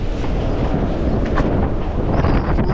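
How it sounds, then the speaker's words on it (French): Strong wind blows outdoors around a boat in a boatyard during hull antifouling work, a loud continuous roaring buffet with gusty rumble across the whole clip. "énormément de vent"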